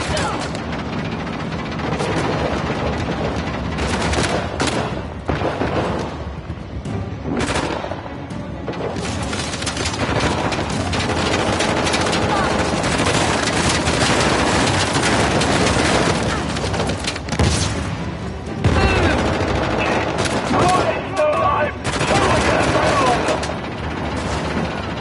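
Gunfire in the video game Uncharted: The Lost Legacy crackles through a dense, loud battle mix, with scattered shots and booms over sustained action noise and shouted voices.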